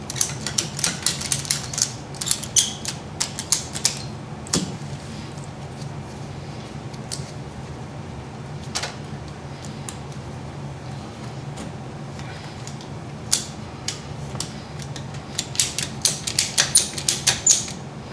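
A hand ratchet clicks in fast runs of sharp ticks while installing a spring on a 2018 Polaris Sportsman 570 EPI, with bursts of rapid clicking at the start and the end, a quieter stretch in between, and no talking.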